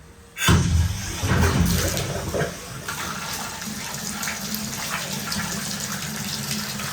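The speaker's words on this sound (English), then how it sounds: "there's a good amount of water coming through there" Hot water running from a tap after a Vaillant Ecotec Plus 630 boiler installation, a strong steady gush that starts abruptly and flows continuously throughout, fairly close and loud.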